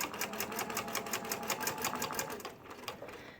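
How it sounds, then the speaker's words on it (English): A sewing machine stitches a patch onto a jacket, its needle hammering in a fast, even rhythm. The sound is close and moderately quiet and slows slightly toward the end. "And so we just start stitching around the letter."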